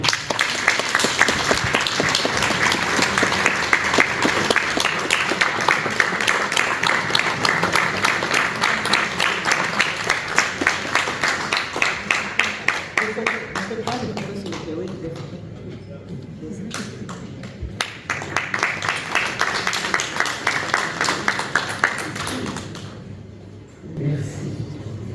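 An audience at an award ceremony for a peace and democracy prize in Brussels claps in sustained applause, dense and loud, easing briefly midway before swelling again, with a voice speaking over it near the end.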